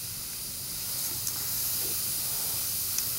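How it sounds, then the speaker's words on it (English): Steady airbrush hiss as Copic marker colour is sprayed over a glitter name on a scrapbook page, a continuous close spray with a couple of faint clicks. "I'm going to airbrush it."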